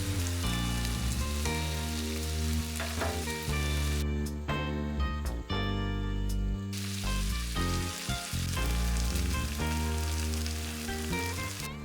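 Tomatoes, potatoes and onions fry in a pan with a steady, dense sizzle and crackle that runs loudly and continuously, with no voices.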